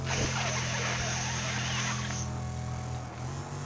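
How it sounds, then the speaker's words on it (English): Damaged car engine in the Wreckfest racing game, a harsh, continuous mechanical drone with a high whine that holds steady, then drops away partway through. "it sounds like I've lost a spanner in my engine."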